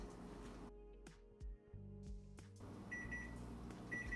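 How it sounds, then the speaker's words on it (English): A kitchen timer goes off during home kombucha making, a series of short electronic beeps heard faintly amid quiet room noise, with a soft click or two. "so the timer is going off"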